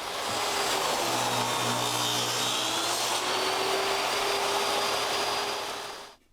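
A router fitted with a bearing-guided trim bit runs steadily along the edge of a wood board for a transom over double doors, giving a loud continuous whine that winds down at the end.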